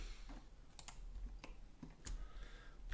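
Computer keyboard keys clicked while modelling in Maya 2024, a few sharp, quiet separate taps spread over the stretch against a soft background, with no talk.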